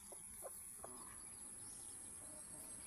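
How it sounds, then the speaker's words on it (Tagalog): Pet chickens cluck in a few short, faint bursts outdoors, heard at a distance over a steady high insect drone. "Ayan po yung aking mga alagang manok"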